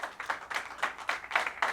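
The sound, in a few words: applause for the runner-up bowling pair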